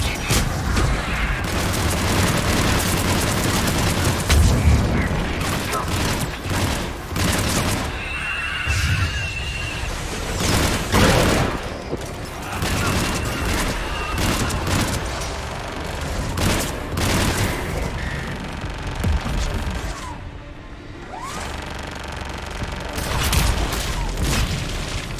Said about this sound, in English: Missiles are hot. That's it for the missiles. Switching to the gun.